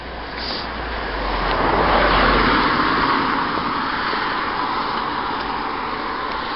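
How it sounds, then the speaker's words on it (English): A Suzuki car passes on a quiet country road near Chelwood Gate and Ashdown Forest, its tyre and engine noise swelling into a broad rushing roar before gradually receding. "Here comes a car, so I'll get, I'll just get to the side"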